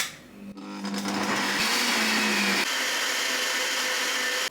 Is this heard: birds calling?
no